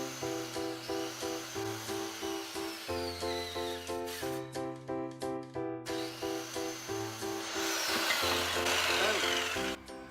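A saw cuts through wood pieces for a DIY succulent wall art frame, with steady rhythmic back-and-forth strokes under background music, turning to a rougher, denser burst of cutting near the end.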